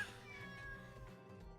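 A kitten meows softly a few times in a room, faint and close, over a low steady hum, with no voices.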